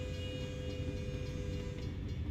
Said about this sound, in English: I'll see the train go past. It's getting louder and louder.